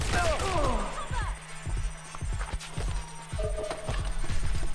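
Gunfire in Watch Dogs Legion comes in rapid sharp bursts, loud and close, spread through most of the stretch with brief pauses between volleys and a few whooshing sounds near the start.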